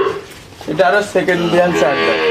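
A big-bodied black-and-white Holstein Friesian cow gives a loud, close, drawn-out moo, its low tone rising and wavering over about two seconds with no talk.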